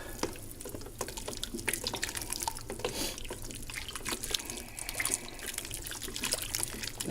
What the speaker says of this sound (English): Then we stir it up.